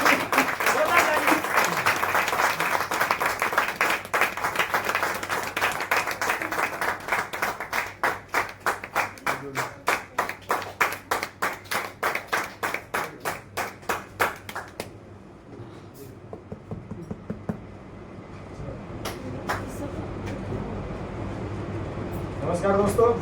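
A hall audience gives loud applause to welcome a speaker onto the stage. Dense clapping settles into rhythmic unison claps that fade out, and a voice begins talking.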